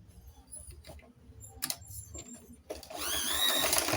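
A sewing machine stitching a skirt dart runs in short, quiet bursts with small ticks and handling noises, then settles into a louder, steady whir near the end.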